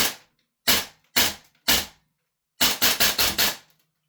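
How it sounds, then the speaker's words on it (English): A Double Eagle airsoft gun fires gas-powered rounds: three sharp single cracks spaced apart, then a quick string of four shots in a row, loud and close with silence between. "Now I'm just going to shoot these rounds out."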